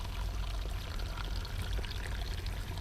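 Water poured from close by into a slug trap buried in garden soil, a short steady gush with a low, full rush throughout and no voices.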